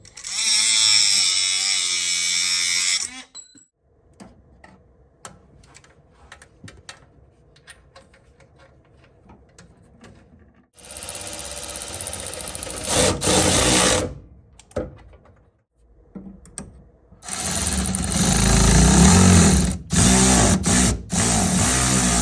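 Cutting a steel shift rod with a power cutting tool while fitting a Lokar shift lever on a Mustang: loud bursts of harsh grinding-cutting noise, roughly three separate passes, with quieter clinks and handling sounds between them.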